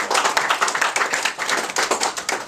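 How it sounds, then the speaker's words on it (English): Guests gathered in a private family home clap for the hosts, a close, crisp round of hand claps with uneven bursts, no talking over it. "Let's give them a great round of applause for opening up their beautiful home to us"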